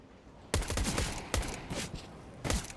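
Pistol gunfire in CS:GO on the Overpass map at a DreamHack Masters Dallas 2019 match, heard as three sharp bursts of rapid shots spaced about a second apart, each a quick cluster of loud cracks over quiet game ambience.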